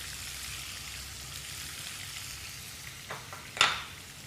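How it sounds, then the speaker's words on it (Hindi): An onion sizzles in hot oil in a pan for a Rajasthani potato masala, a soft steady frying hiss with a few sharper crackles and a louder burst near the end. "और अब इसमें डालेंगे प्याज,"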